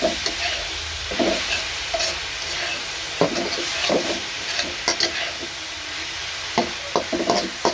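A spoon or spatula stirs and scrapes a thickening puli pitha filling mixed with milk powder in a pan, with repeated clattering scrapes over a faint, constant sizzle and no talking.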